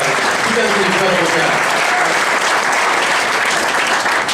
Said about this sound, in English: Give a round of applause for Art Peisner.